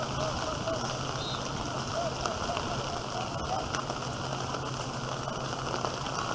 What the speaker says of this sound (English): the rain keeps coming down